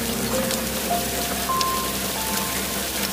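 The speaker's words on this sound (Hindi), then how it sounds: "मैं बारिश में भीग रहा हूँ, मुझे अंदर आने दो" Steady rain hiss falls throughout a Hindi cartoon about a bird, with a few faint high tones rising above the continuous patter.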